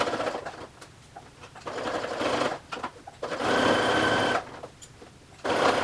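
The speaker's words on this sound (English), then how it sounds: "But I do have a free arm machine, so I am going to make use of that and stitch using that." A free-arm sewing machine stitches fabric right alongside piping on a round storage basket, running in several bursts of steady whirring separated by short pauses.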